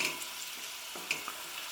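Vegetable goulash being stirred in a pan, a soft scrape and sizzle over a steady low hiss, with a couple of brief clicks near the end.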